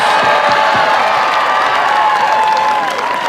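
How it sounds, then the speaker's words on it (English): A large crowd applauds and cheers for the Walker Valley Mustang Band seniors at a high school football game, with steady, dense clapping and scattered whoops filling the whole stretch. "how about a big round of applause for all of our Walker Valley Mustang Band seniors"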